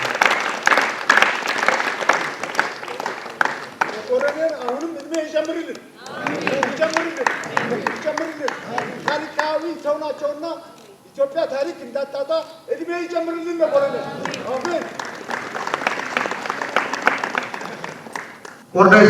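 Applause greets an honoree at an Ethiopian award ceremony recognising a peace ambassador, steady clapping rising and falling across the room while a voice speaks over it throughout.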